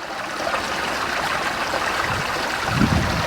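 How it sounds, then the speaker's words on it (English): Water pours from a filter system back into four tanks as a steady, fairly loud rushing and trickling flow that carries on the whole time, with a low gurgle near the end. "That's water coming from the filter system back into the 4 tanks now."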